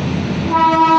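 Farakka Express standing at the next platform of a quiet station, with steady broadband rumble and, in the second half, a sustained tonal horn-like drone rising over the noise.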